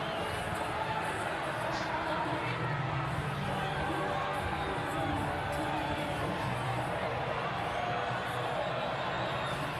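Stadium crowd at a 1997 rugby league match between Newcastle Knights and Sydney City Roosters gives a steady, distant roar with scattered shouts and cheers, continuous throughout.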